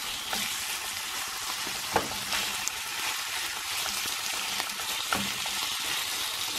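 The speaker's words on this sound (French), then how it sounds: "vous les laissez roussir un petit peu en les remuant de temps en temps" Food browns in a frying pan with sesame oil, a steady sizzle and crackle with a few louder scrapes and clinks as it is stirred now and then, close up and without talk.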